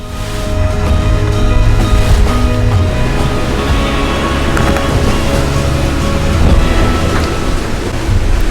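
A sailboat sailing upwind under staysail in a squall gives off a steady loud roar of wind and waves, with rushing water and buffeting throughout and no voices.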